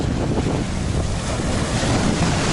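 Black Sea waves wash onto the shore at Zhelezny Port in the evening, a continuous loud surf roar mixed with gusty wind buffeting the microphone.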